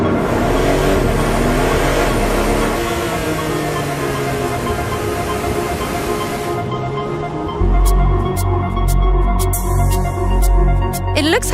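A new Porsche 911 T-Hybrid engine roars loudly and steadily, rising in pitch, then shifts to a pulsing, throbbing low idle with sharp clicks, no voices present.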